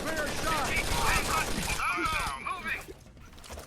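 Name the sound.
suppressed gunfire in video game Rainbow Six: Vegas 2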